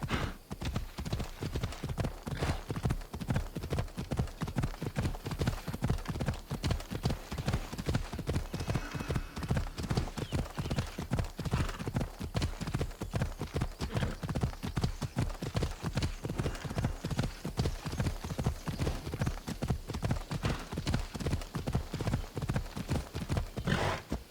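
Horse galloping in the video game Assassin's Creed Odyssey, a fast unbroken rhythm of hoofbeats clopping evenly for the whole stretch, close and steady, with a faint voice occasionally underneath.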